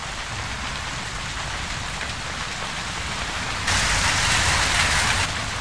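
Steady rain pours through the roof of a warehouse in the video game Ghost Recon, a dense continuous hiss of drops that swells louder near the end, with no voices.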